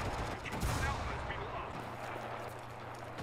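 Gunfire in a Battlefield video game, a burst of shots near the start over a dense, steady wash of battle noise, with a player talking faintly underneath.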